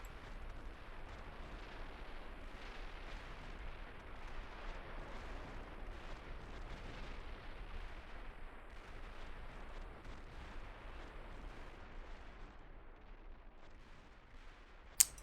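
Distant artillery fire in the Steel Beasts Pro PE tank simulator, a continuous low rumbling roar of rolling booms with a sharp close pop right at the end.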